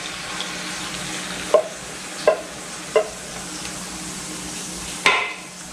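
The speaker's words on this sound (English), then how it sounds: "I'm going to start putting in my tomatoes." Tomatoes for a spaghetti sauce cook in a sizzling pan. A steady frying hiss runs throughout, punctuated by four crisp spoon taps against the pan's edge, spaced about a second apart.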